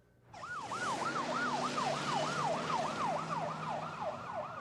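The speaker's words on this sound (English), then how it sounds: "Dustin's grandmother, Norma Chico, rode in the ambulance with her daughter, Stephanie." An ambulance siren wails loudly and steadily in a repeating rising-and-falling yelp, close and dominant, with faint road vehicle noise beneath and no talking.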